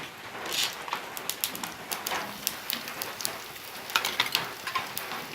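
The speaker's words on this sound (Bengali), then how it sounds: "এখন আমি ফোড়নে দিয়ে দিচ্ছি শুকনো লঙ্কা, তেজপাতা" Dried red chilies and bay leaves hitting hot oil in a Bengali five-spice tempering for raw mango chutney, giving a steady crackling sizzle with scattered sharp pops throughout, close and fairly quiet, with no talking.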